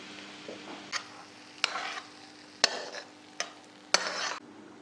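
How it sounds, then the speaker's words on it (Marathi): Finely chopped garlic frying in a little leftover eggplant-frying oil for a tempering, a soft continuous sizzle broken by several sharp crackling bursts as it is stirred. "मगाशी जे वांगे तळलेलं तेल होतं तेच मी लसूण तळायला वापरते"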